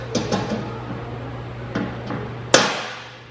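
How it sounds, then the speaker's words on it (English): Rivets are hammered down on car belly pans: a handful of sharp metallic taps, spaced irregularly and close by, ending with one louder ringing strike over a low steady hum. "Now you just gotta rivet these down."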